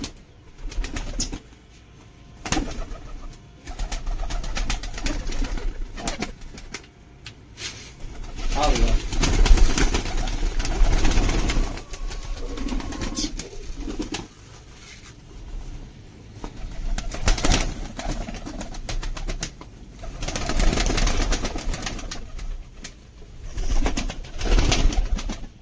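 Pigeons coo repeatedly in soft, low bursts, with wing flaps and shuffling nearby while someone talks over them throughout.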